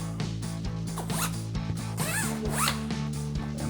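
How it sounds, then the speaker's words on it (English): A zipper on the mesh window of an inflatable truck bed camper topper on a Ford F-150 is pulled in several short, scratchy strokes, close up, over a steady low hum, with no voices. "So we'll get our first zipper in for our mesh."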